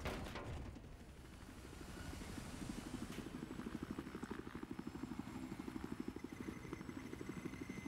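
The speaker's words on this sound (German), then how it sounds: "Da kommt ein Heli geradezu." A helicopter in the multiplayer video game Battlefield 4 draws closer, its rotor thumping in a fast, regular pulse that grows steadily louder and more distinct over a low engine drone.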